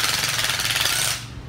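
A battery-powered hammer drill running in hammer mode gives a loud, continuous rapid rattling hammer that runs steadily and then winds down and stops just before the end.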